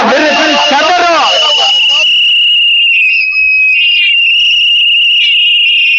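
A dense crowd of supporters at a political rally in Salem lets loose a sustained, piercing chorus of whistles that carries on loudly, while excited voices shout beneath it at the start.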